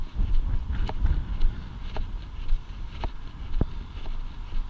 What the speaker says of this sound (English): if you can't hear me because the wind, it is quite windy today.